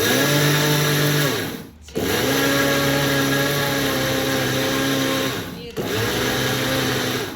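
A mixer grinder whirs loudly and steadily as it grinds roasted niger seeds into gurellu powder, cutting out briefly twice before restarting, with no talk over the motor.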